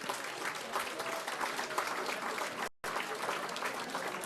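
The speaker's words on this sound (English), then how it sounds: "Let's give our wonderful performers another big round of applause" An event audience gives the performers a big round of applause, dense steady clapping from a crowd that continues through a momentary dropout.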